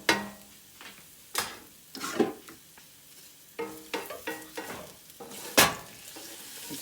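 Garlic in oil in a cast iron pan, stirred in a series of separate bursts of sizzling and scraping, each loud then fading, with quiet gaps between and no voices.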